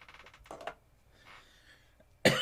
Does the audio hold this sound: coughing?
yes